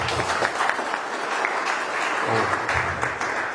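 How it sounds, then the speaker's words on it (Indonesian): Audience clapping at an Indonesian business presentation, a steady dense wash of many hands that holds evenly throughout, with a faint voice or two mixed in. "Aplaus untuk mereka."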